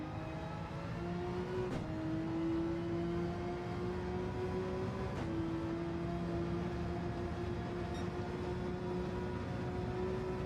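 A Porsche engine in a racing video game holds a steady, droning rev. The pitch dips abruptly at two gear shifts, and the sound runs close and continuous with no talking.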